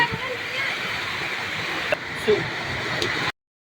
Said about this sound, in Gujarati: મિત્રો વરસાદ કેટલો બધે વધી ગયો છે